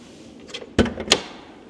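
The door of a BMW 5 Series car shuts, a sharp close thump followed by a quick latch click, with softer handling noises just before, no talk.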